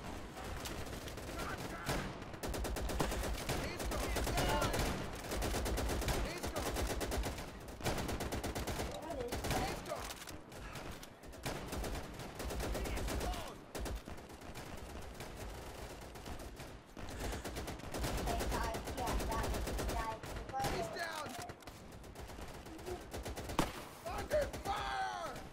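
Gunfire in the WWII shooter game Easy Red 2 on a custom country-lane map: dense, continuous rattling bursts of rifle and machine-gun fire with brief lulls, sustained and fairly loud throughout.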